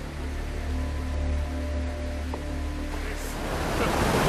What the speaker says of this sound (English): This is our first major creek crossing of the day.